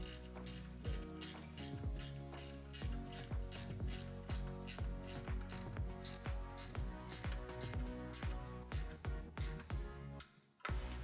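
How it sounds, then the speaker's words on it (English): A hand ratchet clicks rapidly and steadily while tightening cargo rack hardware on a Can-Am Maverick X3. The pawl snaps out a close, regular train of sharp metallic clicks, with a brief pause near the end. "You can just take a ratchet, run those through there."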